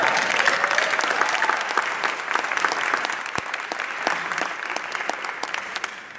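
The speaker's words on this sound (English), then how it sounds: "Give yourself a round of applause." A crowd at a mayoral candidate meeting in Nashville claps together, a loud, even round of applause that tapers slightly toward the end.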